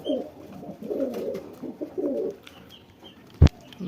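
Pigeons coo in a home loft, soft low rounded calls repeating in several bursts close by, with a brief sharp knock near the end.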